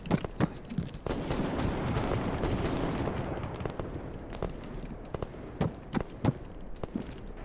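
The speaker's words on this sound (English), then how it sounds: "They're taking shots outside." Gunfire in a video game bursts from outside, starting with scattered sharp shots, then a dense sustained rumble of firing, then more separate cracks and pops at a moderate distance.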